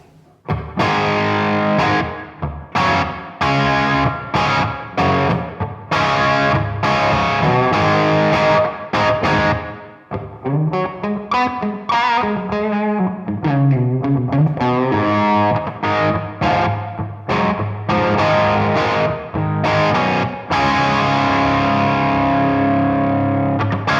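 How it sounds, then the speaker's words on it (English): An electric guitar through a Strymon BigSky room reverb pedal plays strummed chords and riffs drenched in roomy reverb, ringing out between hits, alone without voices. "show you the varied sort of thing you can do with the room reverb machine"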